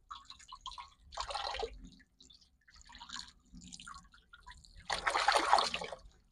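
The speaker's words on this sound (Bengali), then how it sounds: "মাছ কাটা হয়ে গেছে, এবার ভালো করে ধুয়ে নেব পরিষ্কার করে" Cut pieces of fresh river fish being rinsed by hand in water, with soft splashing and sloshing in uneven bursts, the loudest near the end, close and fairly quiet.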